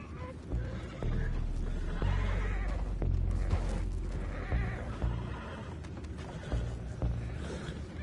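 Several horses whinny and neigh repeatedly in the Red Dead Redemption 2 game, with hooves clip-clopping and a low rumbling bed underneath, the calls rising and falling close by.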